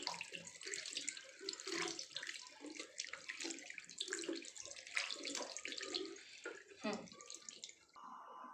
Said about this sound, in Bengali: আমি এবার হাতটা ভালোভাবে বেসিনে ধুয়ে নেব।